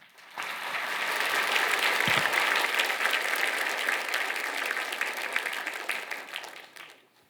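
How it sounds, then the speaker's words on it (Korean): A church congregation at a special prayer meeting applauds the pastor: thick, sustained clapping swells in quickly, holds strong for several seconds, then tapers away near the end. "힘찬 박수 부탁드립니다"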